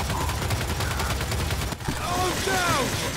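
A mounted gun in Gears 5 fires steady rapid bursts throughout, loud and close, with a brief break midway before the shooting resumes under faint chatter.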